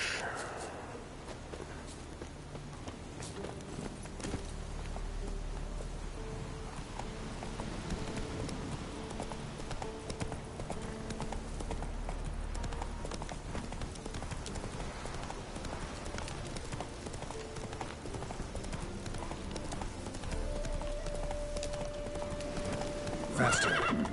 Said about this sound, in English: And we will call Roach